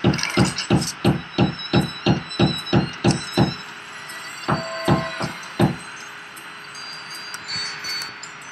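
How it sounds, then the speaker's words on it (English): Someone hammering something: a run of about a dozen sharp, evenly spaced blows, then a short pause and a few more irregular strikes, fairly close and loud, with no talking. "Someone's hammering something."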